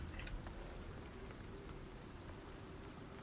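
Rain in the survival video game Icarus, a faint, steady wash of falling drops with a low constant hum underneath and no talking.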